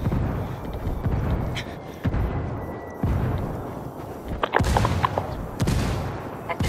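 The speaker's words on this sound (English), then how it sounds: "Chucking a flashbang." Flashbang grenade and gunfire in the Ghost Recon video game, a series of sharp bursts and cracks over a rumbling background, loud and repeated across the clip.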